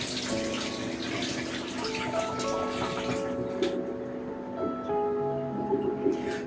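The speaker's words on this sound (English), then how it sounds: "I'm going to go ahead and drain these peppers" Hot water running off halved bell peppers as they are drained in a kitchen, a steady close rush of pouring water with a faint tonal hum and a brief splash near the end, no talking.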